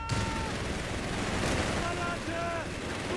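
Gunfire and explosions from the strategy game Company of Heroes 3 crackle in a dense battle mix, with a narrator talking over the continuous din.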